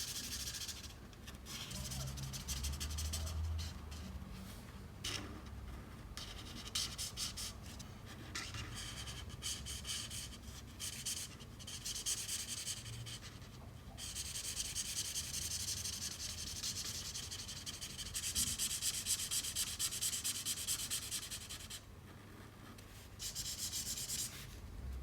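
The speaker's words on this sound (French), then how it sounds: "J'utilise le Vivid Red pour colorier tout le personnage en fait" A Vivid Red marker colouring in a drawing produces close, dry rubbing and scratching strokes in quick repeated bursts, with brief pauses between passes.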